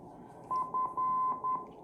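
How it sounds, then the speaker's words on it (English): A Kenwood R5000 radio receiver tuned to long wave hisses with static, and a steady tone beeps four times in an uneven rhythm, the third beep longest. "Kenwood sounds sweet down here on long wave."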